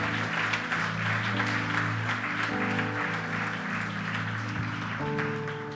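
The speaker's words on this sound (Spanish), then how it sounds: "Les damos un fuerte aplauso a aquellos que han hecho esta decisión por Cristo" A church congregation claps together in a sustained, steady round of applause, with organ or keyboard chords holding underneath throughout.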